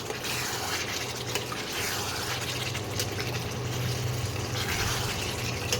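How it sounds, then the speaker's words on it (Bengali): Water splashing and trickling steadily into a pan of cooking spiced chicken, a moderate continuous liquid pour heard up close with no talk over it. "এবারে আমি জল দিয়ে দেবো।"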